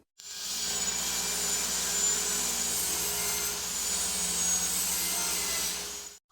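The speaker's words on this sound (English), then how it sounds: "So I'm going to go ahead and do a bevel cut on each piece of the roof at 25 degrees." Miter saw making 25-degree bevel cuts through wooden roof pieces for a bird feeder, a loud, steady whirring cut that runs for about six seconds in a workshop with no talking.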